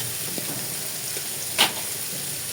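Potatoes fried red with salt and turmeric sizzle steadily in a pan, with a short, sharper hiss midway as the vegetable stalks are added.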